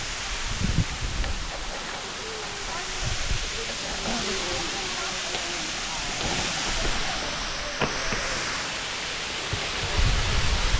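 A waterfall behind a house pours with a steady, broad rushing roar that holds throughout, while faint voices murmur beneath it.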